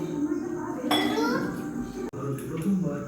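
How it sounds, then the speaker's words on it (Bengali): A young girl plays with kitchen containers behind a cook, giving clinks and knocks of tins and pots up close while someone talks over them and a voice is heard. "দেখুন আমার মেয়ে আমার পেছনে খেলা করছে সব কৌটো পাওয়া নিয়ে"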